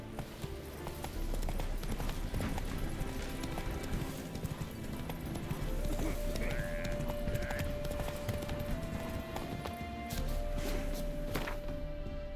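Roach, Geralt's horse in The Witcher 3: Wild Hunt, gallops with steady, rapid clip-clopping hooves that stay loud and close throughout, a brief whinny rising partway through over ambient game sound.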